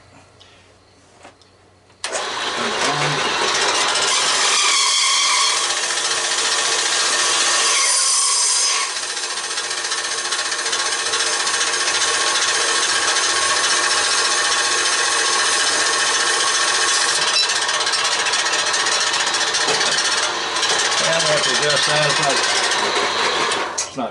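A Harbor Freight band saw cuts through metal with a steady, loud, high whining grind that runs almost the full length without pause, and someone talks over it.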